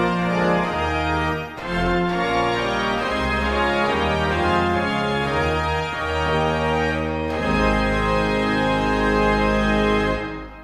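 A rare pipe organ sounds with all great-manual stops combined including the trumpet, a loud, full, sustained blaze of chords moving through several harmonies before cutting off at the end, with no talk.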